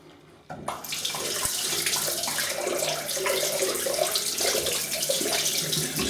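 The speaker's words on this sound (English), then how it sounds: "Rinsing the razor." A safety razor is rinsed under a running tap, a steady close splashing rush of water that starts abruptly after a brief quiet moment and continues evenly, without speech.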